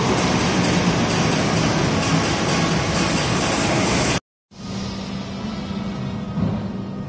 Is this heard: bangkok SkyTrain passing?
yes